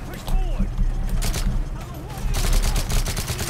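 Rapid bursts of AK rifle fire in Call of Duty: Modern Warfare 3, loud and close with dense repeated shots in clustered volleys, while speech runs alongside.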